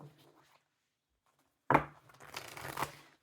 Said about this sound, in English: I'll shuffle with this deck.